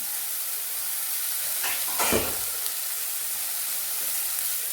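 Onions fry in a pan over a low flame, giving a steady soft sizzle and hiss with a brief louder crackle in the middle.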